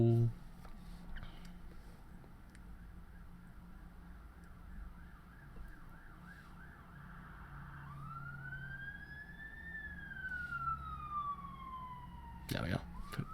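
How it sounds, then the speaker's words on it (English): A police car siren wails up close, first as a rapid yelp and then as a long rising and falling tone, sounding loud as the car passes before it fades away. "The police car's gone past."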